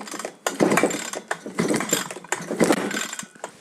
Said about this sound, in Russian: просто продергиваете ручкой стартера, чтобы это масло там разошлось по всем механизмам